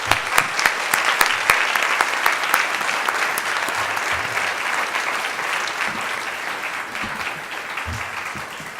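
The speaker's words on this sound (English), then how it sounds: "ask you all to join me in thanking and applauding all of our panelists and" An audience at a public meeting applauds the panelists with steady, dense clapping that holds at an even level for about nine seconds, with no voices over it.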